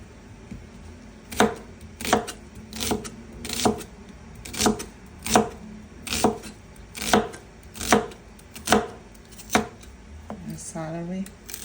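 An onion is chopped with a knife on a board for soup, about a dozen evenly spaced sharp thuds close up, followed by a brief rustle at the end.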